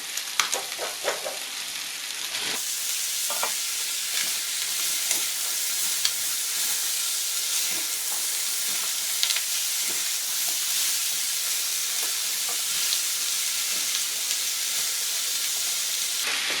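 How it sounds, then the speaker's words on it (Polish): Drained potatoes hit a pan of fried onion, bacon and sausage, giving a loud, steady sizzling hiss that runs unbroken throughout, with occasional sputters and stirring scrapes and no voices. "Teraz do tak podsmażonej cebuli, boczku i kiełbasy dorzucę odcedzone ziemniaki."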